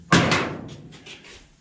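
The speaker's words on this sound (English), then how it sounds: "Let me slam the door." A 1940 Ford pickup door with restored latches slams shut once, a sharp close metallic bang followed by a brief rattling decay, with no talking.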